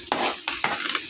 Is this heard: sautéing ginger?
yes